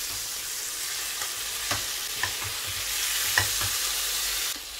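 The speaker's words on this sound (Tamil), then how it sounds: "இனி இதை லோ ஃப்ளேமில் அடைச்சி வச்சு ஒரு 10 நிமிஷம் குக் பண்ணிக்கலாம்." Chicken fry cooking in a pan with a constant close hiss of sizzling oil and a few soft clinks of stirring, and no voices.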